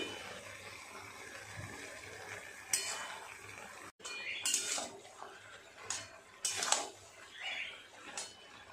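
Cabbage and crushed fried fish head being stirred and fried in a pan; faint sizzling with several distinct clinks and scrapes of a spoon against the pan, alone without talk.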